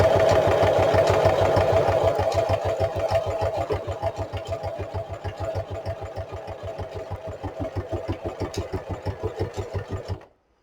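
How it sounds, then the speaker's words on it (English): A sewing machine stitching through a junk journal's book spine, a fast, even rhythmic chatter of needle strokes that slows slightly before stopping abruptly at the end. "So then I'm just stitching right along."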